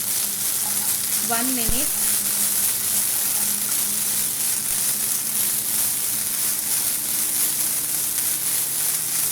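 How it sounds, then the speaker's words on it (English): Ginger garlic paste sizzles and fries steadily in a pan for an Andhra chicken fry, a loud continuous hiss throughout, with a brief spoken voice near the start. "Add 1 spoon of ginger garlic paste and saute it"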